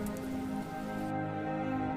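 Heavy rain falls steadily in the aftermath of an earthquake in Afghanistan, a dense, constant hiss of drops hitting surfaces that stays loud and even throughout, with no speech.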